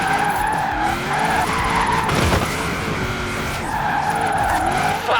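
A car drifting in Forza Horizon 4 with loud, sustained tire squeal over a revving race engine, the screech rising and falling in long sweeps, close and intense.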